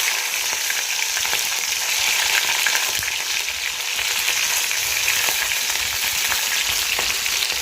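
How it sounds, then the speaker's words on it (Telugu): Green chilies fry in hot oil with mustard seeds for a bitter gourd masala curry, producing a steady close hiss and crackling sizzle with faint stirring, constant from start to finish. "ఇప్పుడు ఏంటంటే పచ్చిమిరపక్కలు వేయాలి"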